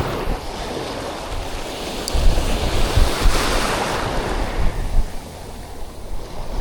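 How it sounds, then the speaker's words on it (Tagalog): Ocean waves washing onto a seashore in the late afternoon, a steady broadband rush of surf with gusts of wind buffeting the microphone, swelling slightly midway through. "Makinig nyo mga alon ng mga master"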